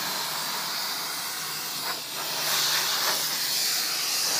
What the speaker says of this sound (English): with this steam, you'll melt things straight away if you're not careful